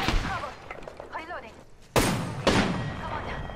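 Gunfire in a PS4 video game fight, two loud sudden blasts late on, each followed by a rumbling tail, after a stretch of game voice chatter and shifting sounds.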